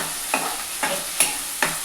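Onion paste with green chilies and curry leaves fries in a pan, steady sizzling broken by four rhythmic scraping stirs spaced roughly evenly.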